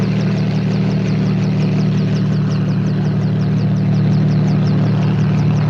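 A helicopter engine in a 1957 film, The Amazing Colossal Man, runs steadily and loudly, with a deep droning hum and a fast, rhythmic rotor chop, and no voices.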